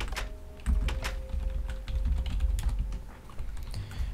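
Rapid clattering keystrokes on a computer keyboard, a close, busy run of taps and thumps with brief pauses, with no talking over it.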